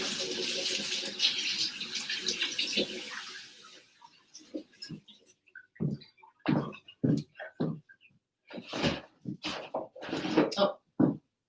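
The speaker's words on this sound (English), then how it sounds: "Let me just wash my hands." Hands washed under a running kitchen tap, with a steady rush of water that stops partway, followed by scattered splashes and rubbing while a voice speaks in short bursts.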